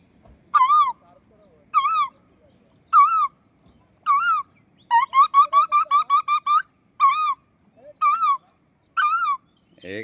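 A person whistles an imitation of an Asian koel call, repeating rising notes in a steady series, with a quick run of rapid notes in the middle.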